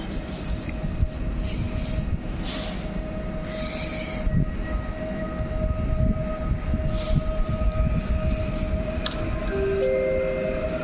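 Trains at Łowicz Główny railway station in Poland, a steady rumble of rolling stock with squealing wheel and brake tones and brief high whistles, continuous throughout with no speech.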